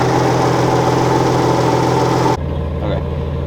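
An Infiniti G37 engine, run again after sitting for a year, idles smoothly and steadily with a close, even hum that drops slightly in level partway through.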